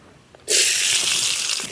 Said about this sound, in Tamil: நறுக்கி வச்ச வெங்காயம் அரை கப்பு கொட்டுறேன்